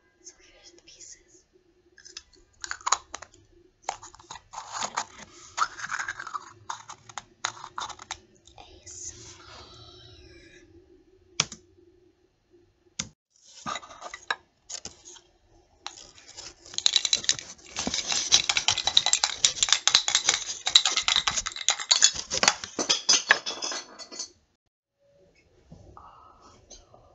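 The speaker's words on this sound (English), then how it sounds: "This is a pencil sharpener, but it broke. So here's the pieces." Close, crisp clicks, taps and scratchy rustles come from handling the plastic pieces of a broken pencil sharpener, in irregular bursts with a few pauses and a denser clattering stretch near the end.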